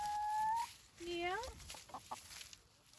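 A hen in a backyard homestead coop gives a few short rising and falling clucking calls, fairly close but soft, with a person murmuring faintly in the background.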